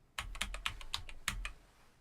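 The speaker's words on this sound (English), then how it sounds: "let's go to our parameters and type Michael," Quick, close keystrokes on a computer keyboard, about ten light taps in an uneven rhythm, typed alone with no voices.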